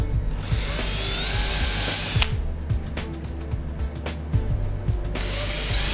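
A power drill whirs steadily and loudly, with brief pauses and changes in pitch as it bores holes into a wall.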